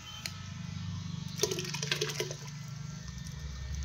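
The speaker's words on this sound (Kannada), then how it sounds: "ಇದಕ್ಕೆ ಸ್ವಲ್ಪ ನೀರು ಹಾಕ್ಕೊಂಡು ಇದನ್ನು ತೊಳೆದು ಹಾಕ್ಕೊಳ್ತೀನಿ ಅದರೊಳಗಡೆ" Water is poured into a pot of mutton sambar cooking with masala, a short gurgling splash of about a second over a low steady hum, with no talk.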